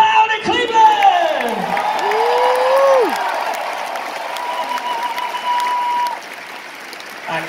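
A concert crowd in Cleveland applauds and cheers loudly, with whoops and shouts over sustained clapping that eases off toward the end while an announcer's voice carries over it.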